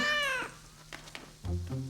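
A cartoon kitten meows, a long high drawn-out cry at the start and then two shorter, lower mews near the end, with no talking.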